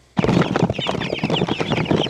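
Young pasture chickens clucking steadily and close by, a dense run of overlapping calls starting abruptly and continuing throughout.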